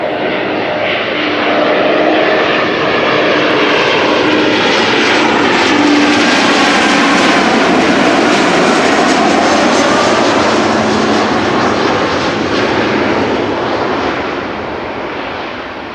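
China Southern Boeing 777 landing at Amsterdam Schiphol, a loud, close jet roar with a whining engine tone that swells, holds, then slowly fades as the widebody passes.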